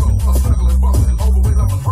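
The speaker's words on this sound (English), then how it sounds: "I can tell you from the thumping bass and treble" Rockford Fosgate car audio in a Mitsubishi Outlander plays music with heavy, thumping bass and bright treble, loud and continuous inside the cabin, with no voices.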